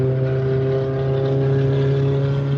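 A car engine drones steadily with a buzzy, tinny tone, held at a constant pitch without clear revving, close and moderately loud.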